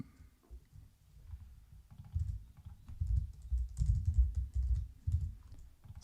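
Typing on a MacBook M3 keyboard, a quiet irregular patter of soft key clicks that builds into denser bursts partway through, close and low in level with no voices.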